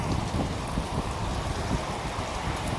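Heavy rain pours down steadily over a rural home near rice fields, a dense, continuous hiss and patter with no pauses and no voices.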